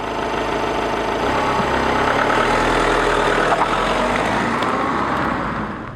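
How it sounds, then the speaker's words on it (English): A Honda Civic 1.6 i-DTEC diesel engine idles with a steady, gruff clatter heard from inside the cabin, holding a constant level for several seconds with no talk. "we found a touch too much diesel clatter enters the cabin,"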